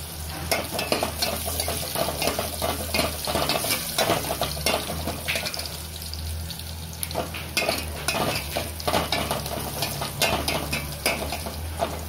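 Steady sizzling of onion and garlic frying in a hot pan, with frequent scrapes and stirs of a utensil against the metal, no voices.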